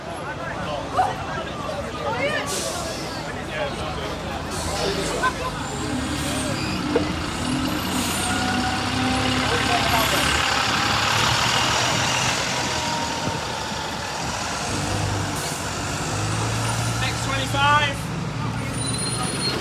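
A low-floor bus engine runs and idles among crowds at a running day on the East Grinstead 22 and 25 routes, a steady rumble with air brake hisses and a busy babble of voices around it.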